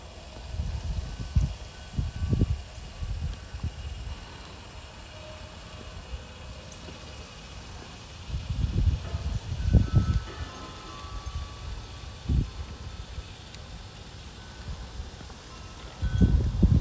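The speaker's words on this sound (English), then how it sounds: "Breeze picking up." Outdoor breeze picking up beside a model railroad layout, heard as low, rumbling gusts that swell in uneven bursts, strongest around the middle and end, with no talking.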